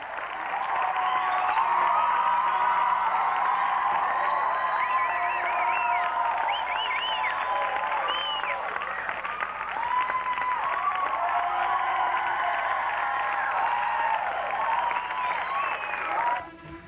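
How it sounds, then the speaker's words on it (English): A large, enthusiastic crowd applauds and cheers in sustained, dense clapping with scattered whoops, at a public reunion event for a television star and the Batmobile. "an enthusiastic crowd was on hand as Adam West and the Batmobile were reunited"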